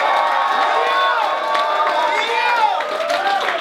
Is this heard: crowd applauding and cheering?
yes